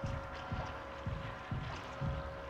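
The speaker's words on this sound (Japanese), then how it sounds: "ポチャポチャ言ってる。" Water sloshes and splashes in rhythmic pulses about every half second in the spaceship psychological horror game Mouthwashing. The sound is soft and wet, with a faint steady hum underneath and no voices.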